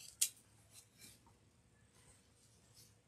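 Scissors cutting wired ribbon for a flat wreath bow, one sharp close snip followed by faint soft rustling in a quiet room.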